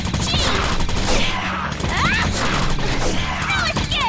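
Gunfire in the video game Grim Guardians sounds as a dense, continuous stream of game action noise under a busy soundtrack, with sharp bursts and sweeping effects throughout, while a person talks over it.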